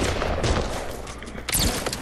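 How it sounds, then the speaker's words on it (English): Shotgun fire in the Fortnite video game during a close fight, with dense bursts of blasts and a sharp cluster of shots near the end, loud and busy with game noise and no voices. "Get your shotguns out, everybody!"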